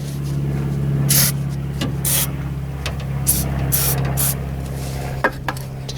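WD-40 is sprayed in several short hissing bursts during radiator work on a 1999 Honda CR-V 2.0 automatic. A steady low hum runs underneath and no one speaks.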